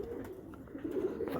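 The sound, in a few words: pigeons cooing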